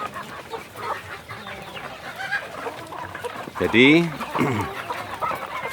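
Free-range village chickens clucking and squawking in an open yard, with one loud, close burst of cackling in the middle, while someone talks over the flock.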